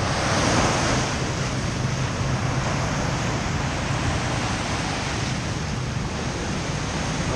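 Sea waves pound against a seawall near Hon Chong beach in Nha Trang as a storm approaches, a loud, continuous roar of surf mixed with heavy wind buffeting the microphone.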